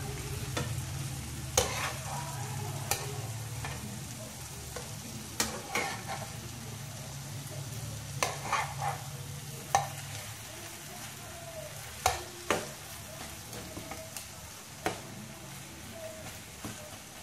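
Bread frying in ghee while the pieces are flipped for a sweet bread dish, a steady low sizzle with scattered sharp clinks and scrapes of a spatula at intervals.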